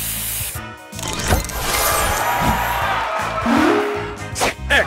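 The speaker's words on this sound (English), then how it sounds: "Booster ready! Spray this!" Spray booster effect from the Match Masters puzzle game, a loud hissing whoosh of spraying sound repeated in bursts, mixed with game jingles and chirpy effect tones.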